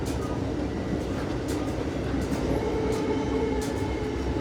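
An Amtrak passenger train rolls along the rails, heard from inside as a steady, loud rumble with faint clicks and rattles throughout.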